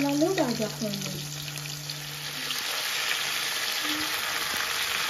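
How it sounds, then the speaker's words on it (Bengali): Fish is lightly fried in a pan for a pointed gourd and potato fish curry. A steady, moderate sizzle rises and holds, after a brief tonal, voice-like sound at the start. "এই যে পটল তরকারি লাগিয়া মাছটা আমি সাতলানি বয়ে দিচ্ছি।"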